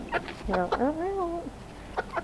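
A hen being handled for a poultry show gives a drawn-out, rising and falling complaining cluck in the middle, close and fairly loud, with short bursts of speech before and after.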